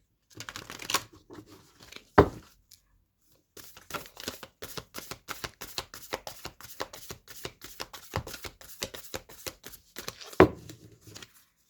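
A tarot deck being shuffled over and over, fast riffling bursts with brief pauses and a few sharp taps, close and fairly loud.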